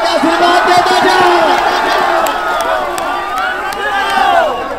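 A rally crowd cheers and shouts steadily throughout, a loud dense roar of many voices with whoops, and no distinct clapping stands out.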